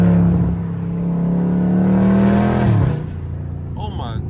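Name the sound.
Dodge Charger Scat Pack engine echoing in traffic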